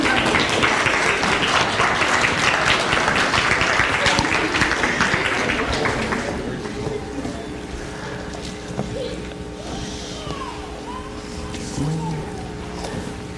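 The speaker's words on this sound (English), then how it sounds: "let's give them another round of applause for their courage and poise." An audience at a small pageant-style event where children answer questions and receive crowns claps loudly for several seconds, then the applause fades into quieter room sounds and a few scattered voices.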